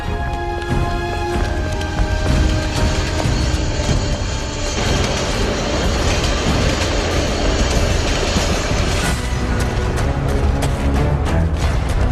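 A subway train rides along in a film scene, a dense, loud rumble with rapid clattering wheel rhythm and broad mechanical noise. The rumble is steady for the whole stretch, with no talk over it.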